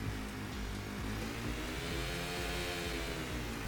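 A quad bike's modular engine in the Stormworks video game idles and revs steadily as it starts and reverses, a continuous mid-pitched motor hum with low harmonics holding even loudness throughout.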